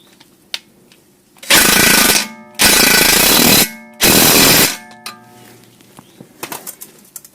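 Three loud bursts of a power tool tightening the tie rod on a VW Cabrio Mk3.5 during front suspension work, each about a second long and separated by short pauses, with faint clicks and taps before and after.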